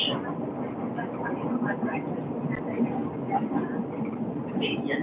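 A train rumbles steadily as it approaches a station, a continuous low mechanical drone with faint rattling that runs the whole time, while a voice announces over it.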